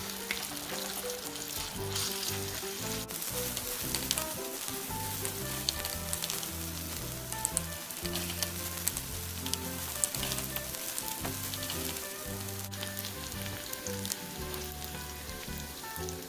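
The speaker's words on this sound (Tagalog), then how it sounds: "gisa hanggang medyo brown konti" Three cloves of garlic sauté in a pan until lightly browned, giving a steady, close sizzle and crackle that holds at an even level throughout with no talking.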